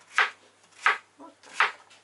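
A knife slices through zucchini into half rings on a board with three crisp, evenly spaced chopping cuts, close and clear with quiet gaps between them.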